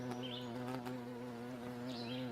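Bees and other insects buzz near a golf course pond, a steady close droning hum with faint chirps in the background.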